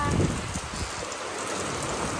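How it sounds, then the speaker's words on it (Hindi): Steady rain pouring during a storm, a dense, even hiss of falling drops close by that lasts the whole moment, with faint voices in the background. "देखो है गई बरसात"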